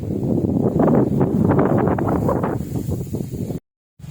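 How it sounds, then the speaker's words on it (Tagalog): Strong wind buffets the microphone in a continuous loud roar with rustling, then cuts out abruptly near the end. "Hangin, malakas simoy ng hangin."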